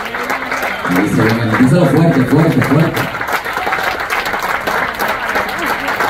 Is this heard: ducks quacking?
no